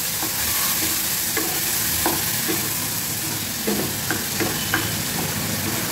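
Tomato puree frying in oil for a brinjal dish, a steady close sizzle with the scrape and tap of a spoon stirring now and then, with no voices.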